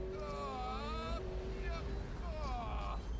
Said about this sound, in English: There's a whistle and a wisp. Yes, this engine is incredibly turbocharged.